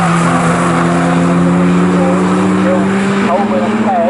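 Porsche race cars in a one-make trophy race at Snetterton accelerate across the line, their engines a loud, sustained, rising drone throughout, up close.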